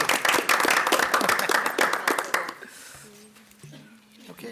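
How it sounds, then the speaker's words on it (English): Small group clapping at a school board of education meeting, a brisk burst of claps for about two and a half seconds that fades out, followed by quiet room tone and a faint voice. "clap."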